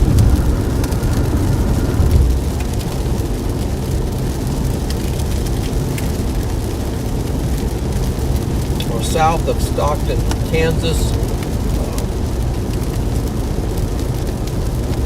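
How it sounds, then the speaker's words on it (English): Heavy rain pours steadily during a storm chase south of Stockton, Kansas, a constant loud wash of noise while someone talks over it. "Got some pretty good rain."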